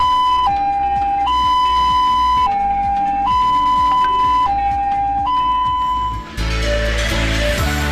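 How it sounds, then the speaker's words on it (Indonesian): Ambulance siren in its first pattern, used when picking up a patient: a loud, close two-tone wail alternating steadily between high and low pitches, ending in a noisier burst. "Bunyi yang pertama mirip palang kereta api yang artinya ambulans sedang menjemput pasien."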